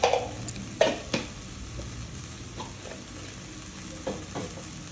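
Coconut masala with turmeric and coriander powder sautéing in a pan for a Kerala chicken curry: a soft steady sizzle broken by several sharp scrapes and knocks of a stirring spoon, loudest at the start.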